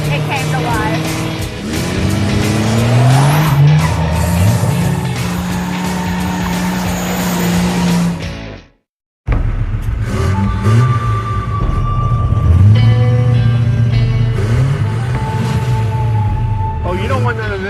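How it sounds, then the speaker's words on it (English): A truck doing a burnout at a hot rod drag event, its engine revving hard and tires squealing loudly and continuously, with a brief cut in the middle, then more sustained howling tire screech and engine roar, with voices under it. "So this truck is going to be great for burnouts because I literally just like touched the throttle and it came to life."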